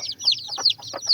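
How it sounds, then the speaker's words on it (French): A mother hen tends her chicks, giving a run of soft repeated clucks with higher chirps over them, close by and steady, with no one speaking. "Mère poule qui est tout le temps sur ses poussins"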